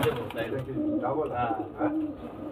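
Pigeons at Ratan da's house coo softly in low, rounded calls amid a murmur of background talk and room noise.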